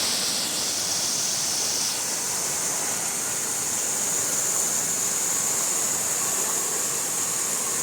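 Loud, steady rush of turbulent floodwater from a cloudburst covering roads and paddy fields in Kankavli, a constant broadband roar with no pauses and no voices.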